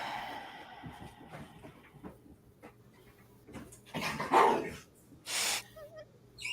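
A dog gives a few short barks and whimpering yelps, close by and moderately loud, in bursts near the end of an otherwise quiet indoor stretch.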